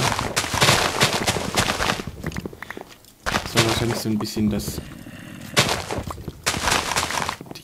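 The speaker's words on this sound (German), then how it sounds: "Die Kanonen" Cannons firing in the Minecraft Hexxit modpack, several loud booming blasts in bursts, mixed with game noise while someone talks over them.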